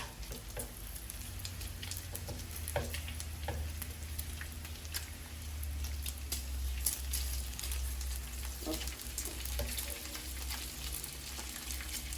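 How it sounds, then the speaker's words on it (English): Bacon sizzling in a frying pan during a home cooking session, a steady soft crackle and spatter with low fizzing throughout, quiet and close with no talking. "Okay, we're going to flip the bacon."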